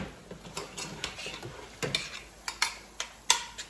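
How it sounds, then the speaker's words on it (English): Spoon scraping and stirring through enchilada casserole ingredients in a pan on the stove, a series of sharp clinks and scrapes in an uneven rhythm over a soft sizzle, close and fairly quiet. "These need a stir"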